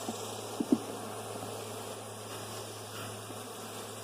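Honey bees hum at an open beehive during an inspection, a steady low drone that holds close and even throughout, broken by a couple of brief knocks early on.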